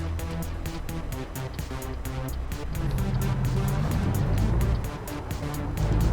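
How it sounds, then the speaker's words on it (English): A car drives past in American Truck Simulator, its engine drone rising and falling steadily over about six seconds against a low rumbling background. "And there would be a car coming."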